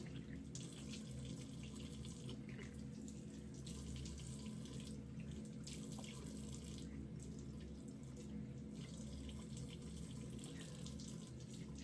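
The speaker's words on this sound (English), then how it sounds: "I'm just actually gonna rinse this off, and it should take off the majority of my makeup" Water streams steadily from a bathroom tap into a sink while makeup is rinsed off, a constant close rushing flow with faint splashing changes and no talking.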